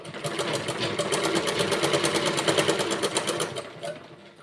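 A sewing machine stitches blouse fabric in a close, loud, continuous run of rapid rhythmic needle beats, alone without voices, easing off near the end.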